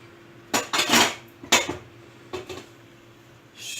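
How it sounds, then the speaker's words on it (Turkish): A spoon clatters and scrapes against a metal pot while a Black Sea–style bean dish is stirred, several close, loud metallic clanks in short bursts separated by quieter gaps. "Şöyle karıştıralım."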